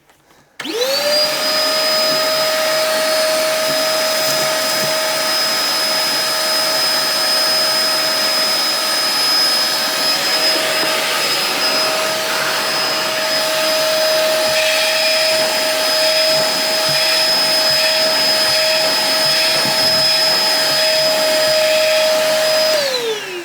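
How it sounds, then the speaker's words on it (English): A Craftsman 2.5 gallon shop vacuum starts up and runs with a loud, steady high-pitched whine and airy roar for about twenty seconds, then begins to cut off. "Now we can go ahead and use it as a vacuum here."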